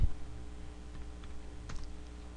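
Computer keyboard typed on to enter the dir command in MS-DOS, a short burst of soft, quick key clicks close by over a faint background hum.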